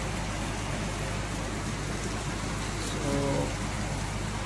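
Rain falling in Noida, a dense steady patter across the whole stretch, with a brief faint bird call near the end and no speech.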